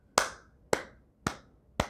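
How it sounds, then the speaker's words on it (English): Four sharp, evenly spaced hand claps ring out alone in a quiet room, each a crisp close smack with a short decaying tail, marking a steady beat. "You can clap it out."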